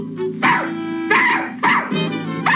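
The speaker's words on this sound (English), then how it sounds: "That sounds like Fifi." A poodle barks four times in short, sharp bursts spaced about half a second apart, close and loud over steady background music.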